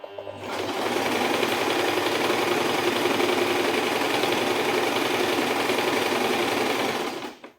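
A sewing machine runs one long continuous seam on a fabric potli bag, about half an inch from the edge. The motor whirs loud and close at an even speed for several seconds, then winds down. No voices are heard.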